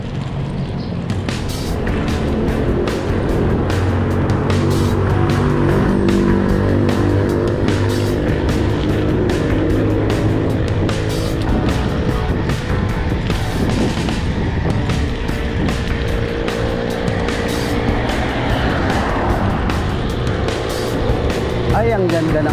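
Passing road traffic heard from a bicycle on a highway, a steady loud roar of cars and trucks with wind rush and shifting engine tones throughout, while people talk over it.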